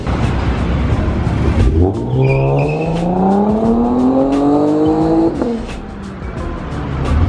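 A 2020 Ford F-150 pickup with a 3.5-liter V6 EcoBoost engine accelerates hard, its loud, close engine note climbing steadily in pitch for several seconds before the revs drop and it settles back.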